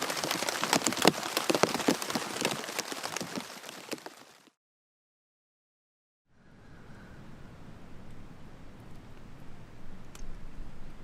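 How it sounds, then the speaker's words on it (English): Heavy rain pounds on a tent at night, a dense loud patter that cuts out abruptly, then resumes as a softer, steady drumming after a short silence. "It rained all night long."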